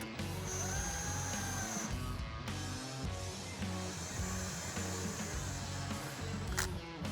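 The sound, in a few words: impact wrench tightening supercharger bolts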